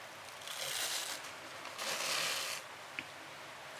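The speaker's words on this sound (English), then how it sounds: "So peel the backing layer off" A sticker's backing layer is peeled off slowly by hand for a mixed media journal cover, giving two soft, papery tearing rustles, close and quiet, followed by a couple of small taps.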